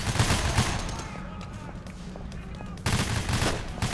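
Gunfire rattles in the Payday The Heist video game, a loud burst of shots at the start, a quieter stretch, then another dense volley after a few seconds, with voices talking over it.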